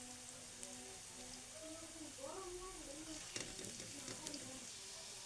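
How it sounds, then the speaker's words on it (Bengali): Potatoes frying in hot oil in a home kitchen, a soft continuous sizzle with a few light crackles and utensil clicks, fairly quiet and steady. "এই যে আমি আলুগুলোকে ভেজে নিচ্ছি।"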